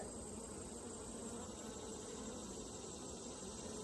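Honeybees drone in a faint, continuous buzz around an open hive during an inspection, a steady swarm hum without speech.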